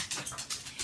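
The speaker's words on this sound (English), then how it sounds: "my dog is chasing her tail right now" A dog lets out short, soft whimpers and yips in quick bursts while chasing her tail indoors, fairly faint and close by, with no talking over it.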